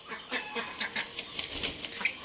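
Rapid chirps and clucks from a white hen, mixed with other farm birds nearby, come in short repeated bursts at a moderate level with some flapping and scuffling.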